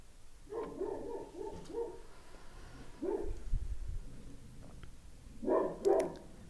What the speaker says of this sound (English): Ignore my dogs.